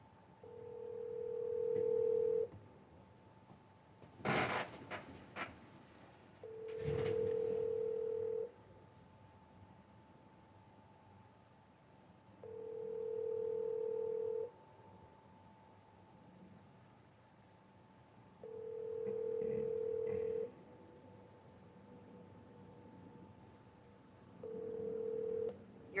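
An outgoing phone call rings on the line, long repeated ring tones in a steady rhythm over soft hiss, with a brief burst of handling noise early on.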